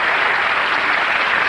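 A studio audience at a comedy show applauds, a dense, steady wash of clapping that fills the room without pause.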